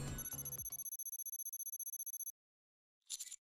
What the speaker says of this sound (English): I walk over to the counter, pick up the ringing phone.